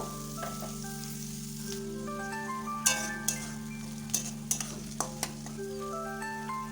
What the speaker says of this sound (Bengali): এবার তেলের মধ্যে দিয়ে দিচ্ছি পেঁয়াজ কুচি আর লঙ্কা কুচি